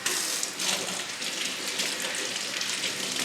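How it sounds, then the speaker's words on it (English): Water pours steadily over Phalaenopsis orchid roots during repotting from moss to bark, a continuous hissing splash like a running tap that stays close and even throughout. "just rinse them with that nice baby bath water"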